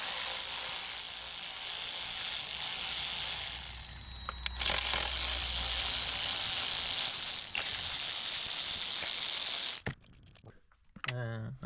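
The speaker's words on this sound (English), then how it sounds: "So now we can pop off all of these 10mm nuts." Ratchet clicking and whirring while 10mm nuts are undone on a BMW E36 engine, a busy steady mechanical rattle up close, then a few sparse clicks and a voice near the end.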